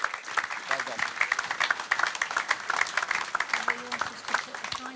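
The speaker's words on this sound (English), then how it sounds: "Can you give these ladies a round of applause?" An audience at a Wigan Athletic end-of-season awards evening claps in a dense, lively patter, with a voice talking over the applause for most of the stretch.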